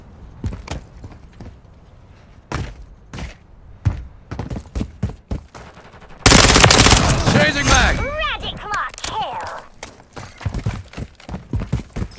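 In the video game Call of Duty: Modern Warfare III, sharp single gunshots crack in irregular bursts, then a loud blast with a rushing roar is followed by more scattered shots, and a voice calls out.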